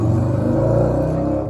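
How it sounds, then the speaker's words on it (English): A motor vehicle rumbles close by with a steady, loud low engine drone across the whole short stretch, with no talk over it. "That's a motorcycle."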